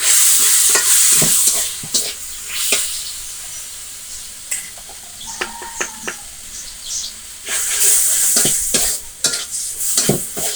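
Dried shrimp frying and being stirred in a home kitchen, a steady close sizzle with repeated scraping stir strokes, quieter in the middle stretch and louder at the start and end, no voices.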